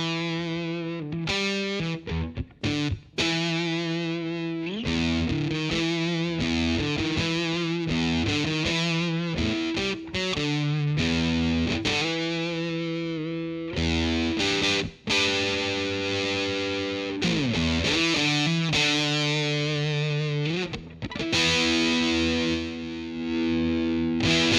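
Electric guitar played through an MXR Omni II Model 180 multi-effect set to its fuzz distortion, thick, buzzy sustained notes and chords ringing loud and continuous with brief gaps between phrases.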